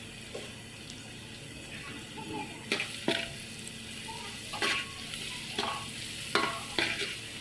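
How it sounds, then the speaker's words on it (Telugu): Onions and green chillies fry in hot oil for a chicken curry, a continuous close sizzle broken by several sharp spoon scrapes and clacks against the pan at uneven intervals, with no speech. "ఆనియన్స్ ఇంకా ఈ పచ్చిమిరపకాయలు బాగా ఆయిల్లో హీట్ అవుతూ ఉన్నాయి"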